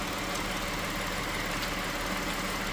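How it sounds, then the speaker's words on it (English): A Ford Edge, just back on the road after an oil pan swap and timing chain and water pump repairs, idles while warming up; a steady, even engine drone runs alone throughout with no voices. "I'm gonna let this car finally warm up."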